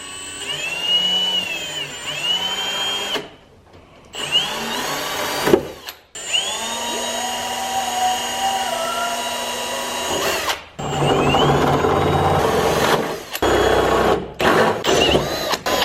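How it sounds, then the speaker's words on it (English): Repeated bursts of close power drilling through carbon fiber on a car, with whining motor pitches that rise and fall as the bit bites, broken by brief pauses between passes. "I don't like drilling through carbon"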